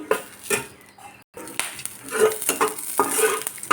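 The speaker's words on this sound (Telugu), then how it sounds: "ఒక ఏడెనిమిది వరకు పచ్చిమిర్చి తీసుకొని కొద్దిగా ఆయిల్లోనే వేయించుకోవాలి" Green chillies, seven or eight of them, fry in a little oil for mint chutney, giving a soft sizzle broken by scraping stirs and light clinks of a utensil against the pan, close and steady with brief pauses.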